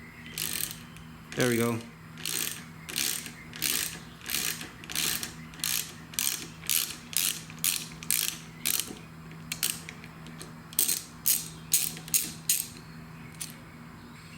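Ratchet fitted with a 6mm Allen socket loosening motorcycle handlebar grip bolts, heard as a long series of close, crisp clicking bursts in steady rhythm, with a brief spoken remark near the start.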